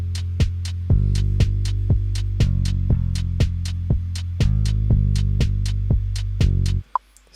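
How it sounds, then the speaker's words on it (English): Hip-hop beat with kick, snare and a sustained bass line: steady punchy hits over held low notes that shift pitch every bar, loud and alone before stopping abruptly near the end. "So all the drums together with the bass sounds like this."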